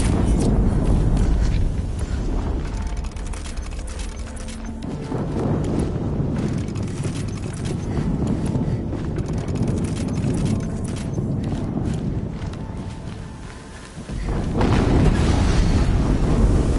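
Explosions in the video game Horizon Zero Dawn: loud booming rumble dips to a quieter lull, then a fresh heavy blast bursts in near the end, filling the mix.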